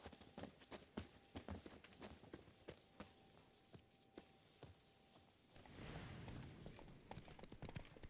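Roach the horse walks in The Witcher 3 with steady clip-clop hooves, close and even in rhythm. A broader rushing noise rises partway through, and there is no speech.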